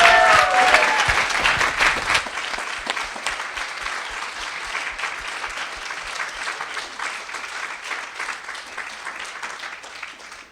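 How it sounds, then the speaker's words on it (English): Audience applause for Katie at the close of a Buddhist class event in Arizona, loud and dense at first, then thinning into a long stretch of scattered, steady clapping that fades. "Let's give Katie a big round of applause for putting that together"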